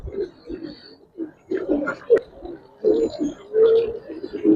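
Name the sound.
Giribaz pigeons cooing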